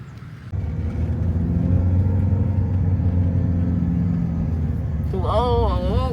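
Car traffic on a road in Bali rumbles steadily close by, engines droning continuously, with a voice speaking briefly near the end.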